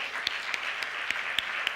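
Steady audience clapping at a talent night, fairly soft and even throughout, with a few sharper individual claps standing out at regular intervals.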